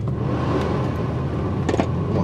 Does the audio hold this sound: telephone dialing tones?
no